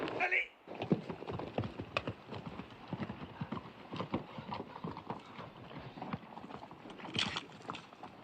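Horses gallop past with a steady, rapid clip-clop of hooves, fairly close and continuous, a brief neigh breaking through near the end.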